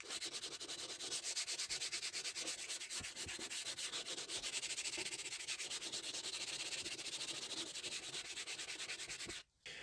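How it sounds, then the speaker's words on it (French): Steady, close rubbing of sandpaper on a Renault Laguna dashboard as paint is stripped off, a continuous scratchy rasp in quick regular strokes that stops abruptly near the end. "retirer vraiment le maximum du gros de la peinture"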